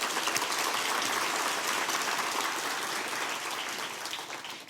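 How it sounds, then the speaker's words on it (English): An audience at a design education summit applauds steadily, a dense rain-like wash of clapping that holds evenly, then fades slightly toward the end, with no voices over it. "Let's please give another hand of applause."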